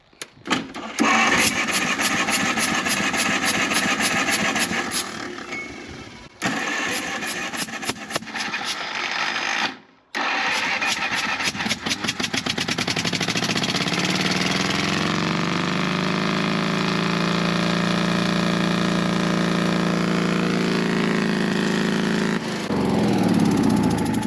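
Engine of a 1954 Cat No.6 shovel cranking, catching and running, loud and close with a steady drone after brief starting attempts and a short cutout.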